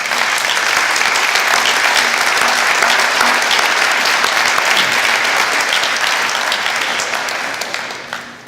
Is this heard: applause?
yes